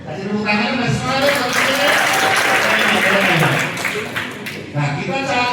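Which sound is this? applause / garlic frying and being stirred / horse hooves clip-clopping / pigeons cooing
applause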